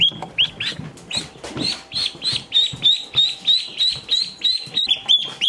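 Ducklings and chicks on a pasture-raised meat chicken setup, peeping steadily in rapid, repeated high chirps close by, with shuffling and rustling underneath.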